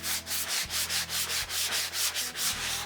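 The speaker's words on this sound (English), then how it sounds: "I'm taking a sanding block. I'm not sure what the grit is. It's pretty fine though" A fine-grit sanding block scrubs across a fiberglassed board in steady back-and-forth strokes, close and even, each pass a soft gritty rasp repeating roughly three times a second.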